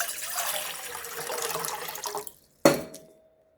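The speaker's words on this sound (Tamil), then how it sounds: "தண்ணி ஊற்றிக்கலாம்." Water poured into a pot on a stove, a continuous close splashing gush that stops abruptly, followed by a single bright metallic clink ringing out and fading, with no talk.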